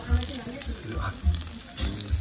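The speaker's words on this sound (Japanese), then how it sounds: "めちゃめちゃジュージュー言うとりますがな" A cheese hamburger steak sizzles loudly on a hot iron plate at a long-established Western-style restaurant in Higashimatsushima, Miyagi, a steady close crackling hiss with pulsing bursts and faint background voices.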